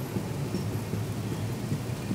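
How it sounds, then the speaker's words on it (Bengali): Heavy downpour with thunder outside a moving train, a dense continuous roar of rain with low rumbling throughout, steady and fairly loud with no voices. "ট্রেন ছাড়ার কিছুক্ষণের মধ্যেই এইরকমভাবে মুষলধারে বৃষ্টি শুরু হয়েছে।"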